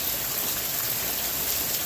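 Steady rain showers fall in a dense, even hiss of drops on surfaces, loud and continuous with no voices.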